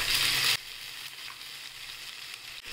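Urad dal is tipped into hot oil already crackling with curry leaves, green chilli and moong dal, giving a loud burst of sizzling frying that quickly settles into a steady softer hiss.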